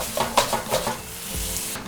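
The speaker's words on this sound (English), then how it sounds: "There's a little sizzle for you." A soft sizzle of wine hitting a hot pan, with stirring scrapes and light clinks of a utensil against the pot.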